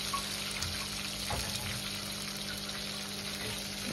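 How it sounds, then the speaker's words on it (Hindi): Okra (bhindi) tossed into well-heated oil over full flame, with a spoon of salt, gives a steady, even sizzling hiss that runs unbroken from start to end with no talking. "अच्छे से गर्म होने के बाद फुल फ्लेम पर इसको इसमें डाल दें भिंडी को"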